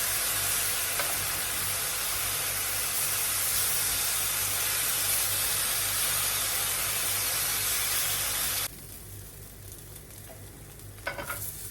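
Loud, constant sizzling and hissing of chicken frying in a hot pan over medium heat for several seconds, then the sizzle abruptly drops to a quieter crackle.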